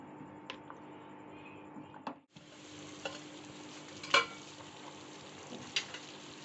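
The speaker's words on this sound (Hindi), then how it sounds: "तो हम इसे मिक्स करेंगे अच्छी तरह से और इसको 10 से 15 मिनट तक और पकाएंगे" Beef paya simmering with masala in a pot, a steady soft sizzle with occasional scraping and clinking of a spoon against the pan, close and quiet, with no speech.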